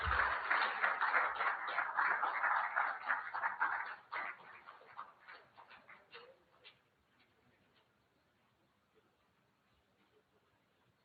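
Audience applause welcoming a chief at a Greater Accra Regional House of Chiefs courtesy call on the president; dense clapping holds for about four seconds, then thins into scattered claps and fades to near silence.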